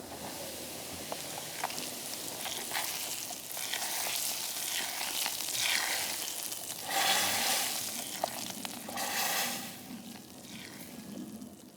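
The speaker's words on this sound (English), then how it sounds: "Kavurmak için koyacağım birkaç kona kırmızı biber." A few red peppers frying in olive oil in a Roma home kitchen in North Macedonia, a fairly quiet continuous sizzle that swells and fades with occasional sharper spits.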